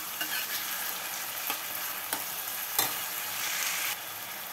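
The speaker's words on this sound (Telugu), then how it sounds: "బాగా పచ్చివాసన పోయే వరకు వేయించుకున్నాను." Bottle gourd pieces frying in a pan: a steady, fairly loud crackling sizzle punctuated by a few light scraping taps of a spoon, with no voices.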